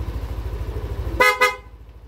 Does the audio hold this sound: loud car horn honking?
yes